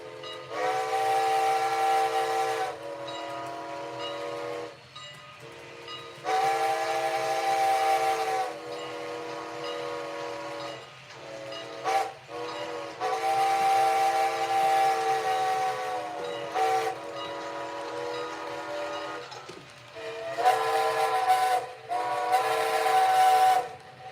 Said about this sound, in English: I'm a big fan of this whistle.